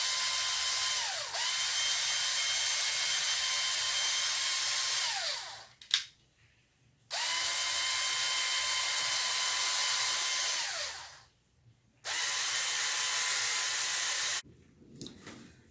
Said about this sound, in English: I am just going to drill a hole through one bottle cap